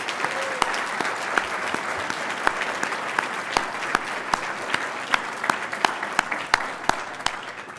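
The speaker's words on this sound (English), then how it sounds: "Could we have a round of applause, please, for your judges?" An audience at a journalism awards ceremony claps for the judges, a sustained round of applause with sharp individual claps standing out above the steady wash.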